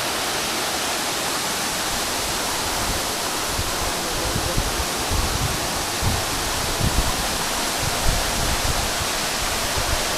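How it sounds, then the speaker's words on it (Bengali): Water rushes steadily at Sitakunda waterfall, a dense, even roar that holds at the same loudness throughout with no voices. "সীতাকুণ্ড ওয়াটারফলসে।"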